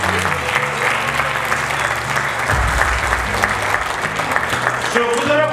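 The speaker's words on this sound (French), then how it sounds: "je voudrais que vous vous applaudissiez d'abord." Guests at the PADEL 2022 award ceremony for excellence and merit applaud, sustained and fairly loud, with a low musical drone running underneath throughout.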